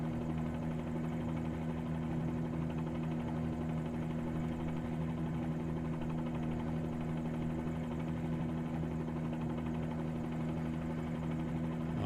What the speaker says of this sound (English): I do like this little helicopter, it's really neat.